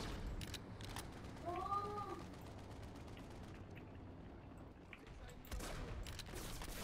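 Gunfire in the Overwatch video game, faint and somewhat distant, scattered shots and short bursts under a low game background, with a voice briefly present.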